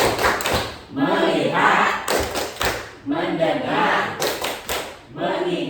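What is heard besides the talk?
rhythmic hand clapping in Tepuk fokus clapping game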